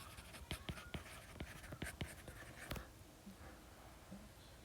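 Pen writing on a paper worksheet, a quiet series of quick scratchy strokes and taps over the first few seconds, then fainter scribbling, close and soft with no talking.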